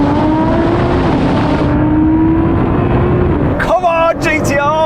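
A Nissan GT-R accelerates hard in a drag race, a loud sustained engine whine climbing steadily in pitch, before an excited voice cuts in over it near the end.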